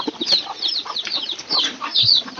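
Young chicks on a farm clucking and peeping in rapid overlapping chirps, close and fairly loud, continuous throughout with no talking.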